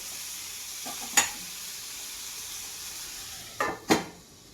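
Pui seed vegetable (Malabar spinach seeds) frying in a pan, with a soft continuous sizzle and a few sharp scraping clatters of stirring, one early and two close together near the end.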